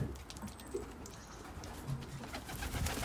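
Pigeons coo softly and intermittently amid quiet outdoor background noise, with no talking.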